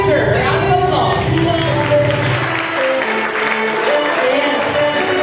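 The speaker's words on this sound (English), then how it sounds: "Let's give her a round of applause." Round of applause at an 18th birthday celebration in a hotel event hall, with sustained clapping from a crowd mixed with loud background music.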